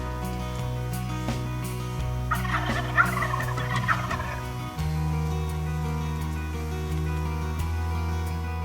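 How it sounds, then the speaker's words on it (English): Wild turkeys gobble in the woods during a kids' turkey hunt, several rapid rattling gobbles bursting out at moderate distance over a steady background hum. "follow us as we hit the sequence of gobbles over the next 30 minutes"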